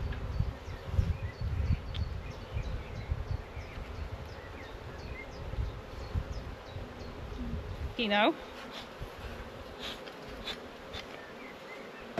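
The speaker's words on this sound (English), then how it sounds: "Plenty of bees in here." Honey bees hum densely around an open hive on a farm, a steady close buzzing under brief spoken words, with a few faint bird calls in the background.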